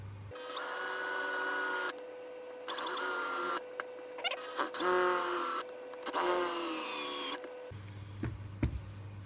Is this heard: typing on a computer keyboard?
no